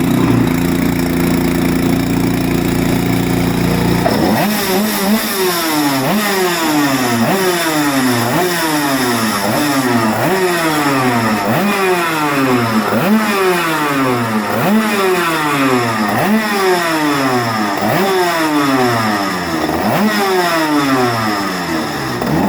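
An Aprilia RSV 250 GP race motorcycle's two-stroke engine starts, then revs hard again and again in a rapid rising-and-falling pattern. It sounds close and loud, with no talk.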